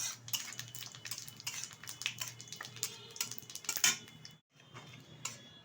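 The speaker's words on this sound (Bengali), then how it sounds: "ফোড়নটা একটু ভালোভাবে ভেজে নেব যাতে খুব সুন্দর ফ্লেভার আসে রান্না থেকে।" Bay leaves, dried red chili and whole cumin fry in hot oil, giving close, irregular crackling pops and sputters with a short pause near the end.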